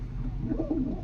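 A Kalo Doma pigeon gives a short, soft, low coo, quiet and close against a faint steady background.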